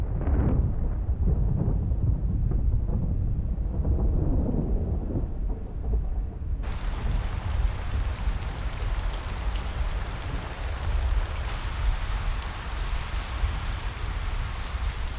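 Heavy rain pours steadily onto the ground, a dense, loud hiss with a low rumble underneath that shifts abruptly partway through to a brighter, sharper patter of drops.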